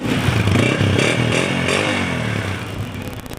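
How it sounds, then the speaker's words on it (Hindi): A 2019 Honda 125 motorcycle standing with its engine running at idle, a loud, close, steady mechanical chugging with a slight clattery rattle, heard alone without talk. "होंडा 125 मॉडल 2019, साउंड सुना आपने, बाइक स्टार्ट खड़ी है"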